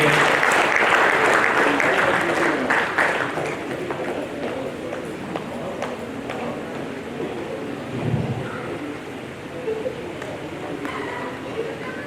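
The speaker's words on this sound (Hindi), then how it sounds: "तालियां बजनी चाहिए" Audience applause at a ceremony in Kanpur honouring descendants of revolutionaries, loud clapping at first that gradually thins and softens into scattered claps, with some background noise.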